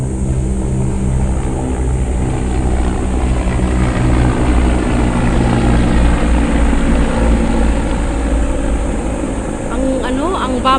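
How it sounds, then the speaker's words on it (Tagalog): Two helicopters pass low overhead outdoors on grassy ground, a steady loud rotor and engine drone filling the whole stretch with a continuous low throb and no talk over it. "ang babaw lang ng helicopter dumaan"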